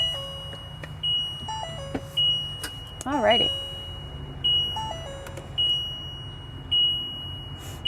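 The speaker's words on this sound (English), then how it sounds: "I think it's going to keep beeping at us. I'm sorry, because of the hood." A 2025 Winnebago EKKO 22A all-wheel-drive Class C motorhome sounds repeated electronic warning beeps and chimes with its hood open, steady short tones while a person talks nearby.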